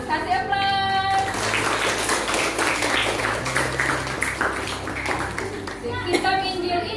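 Children clap together in a classroom, a dense, lively patter of many small hands lasting several seconds, with kids' voices and an adult voice over it.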